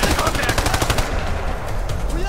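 Rapid machine gun fire rattles in loud, close bursts in the video game Ghost Recon Future Soldier, the shots running on continuously with no pause.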